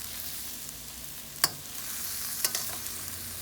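Shrimp fried rice frying in a pan, a steady soft sizzle with two brief sharper clicks of stirring or scraping, fairly quiet and with no talk.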